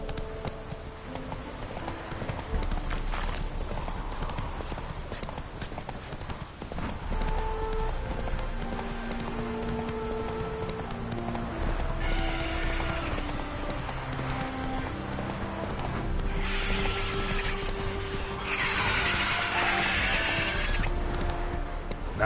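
Geralt's horse Roach from The Witcher 3 gallops with steady rhythmic hoofbeats and whinnies, alongside game background sounds and a brief voice.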